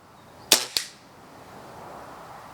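Spring-powered air rifle firing once, a sharp close crack with a quick second snap just after, then a faint fading tail.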